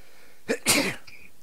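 A single sneeze bursts out sharply at close range during a tabletop role-playing game session, with a short intake before the loud release and a faint trailing sound after.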